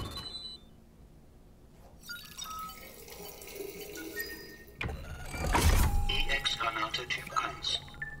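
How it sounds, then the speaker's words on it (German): Shower water in Death Stranding starts partway through, a steady, loud rushing spray that swells over quieter game ambience and mechanical hums. "Und dann nochmal duschen."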